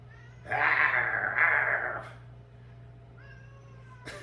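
A cat lets out two long, drawn-out meows close by, then a softer brief call follows after a pause.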